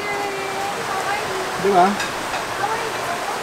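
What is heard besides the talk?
river flowing past campsite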